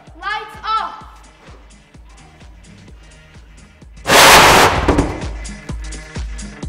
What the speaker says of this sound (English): This is the whoosh bottle.